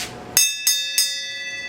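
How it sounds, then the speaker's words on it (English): A small hand bell rings three times in quick succession, each strike bright and ringing with a metallic overtone that decays before the next, close and clear with no talk. "would you mind ringing the bell?"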